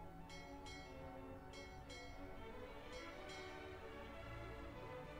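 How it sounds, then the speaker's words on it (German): Repeated bell strikes ring out in a Victorian setting of the PC adventure game Sherlock Holmes: Nemesis, several bright clangs in pairs sounding over a steady dense background, moderately loud and continuous. "stellen Sie diese Glocke ab, bevor ich sie zerschlagen lasse."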